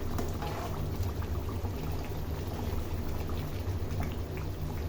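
A pot of thin chicken and potato curry simmers steadily, a dense low bubbling and faint crackle holding evenly throughout with no voices.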